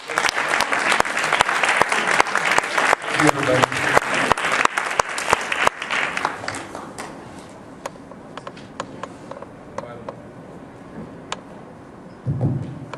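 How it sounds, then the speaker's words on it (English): An audience applauds loudly for several seconds, a dense wash of clapping that fades into scattered individual claps, with a voice coming in at the end. "Another round of applause for"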